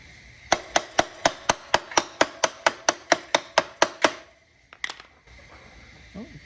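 A seized piston in an 80s moped engine being struck with a hammer: about eighteen sharp metallic knocks in quick, even succession, followed by a few scattered clanks and then quiet.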